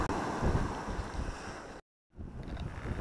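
Strong wind at the Overstrand coast buffets the microphone with a loud, broad, rumbling roar that cuts out abruptly for a moment, then returns slightly softer.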